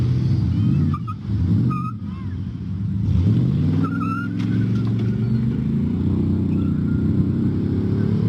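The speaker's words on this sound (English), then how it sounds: "the man gets back in the truck and drives off," A truck driving off, its engine revving and accelerating steadily with road rumble up close, with a voice faintly mixed in underneath.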